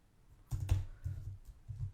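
Keys clack on a computer keyboard at close range, a short burst of quick soft taps with a brief pause before a few more strokes, fairly quiet overall.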